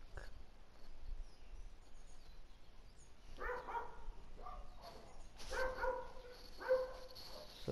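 A pet dog barks faintly in the background of a home gaming session, with a few short, distant barks and yips scattered through a quiet room hum.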